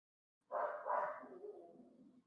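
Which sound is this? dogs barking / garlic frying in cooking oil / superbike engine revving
dogs barking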